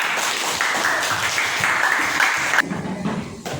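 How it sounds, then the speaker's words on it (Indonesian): Applause from a classroom audience after a student group's presentation, steady dense clapping through most of the clip, then thinning out near the end with a little background chatter. "berikan tepuk tangan untuk presentasi dari kelompok Indonesia Raya"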